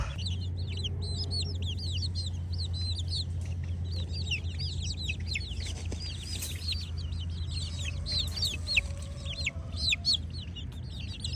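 Many chickens cluck and chatter without pause inside a shed, a dense layer of overlapping calls over a low, steady hum.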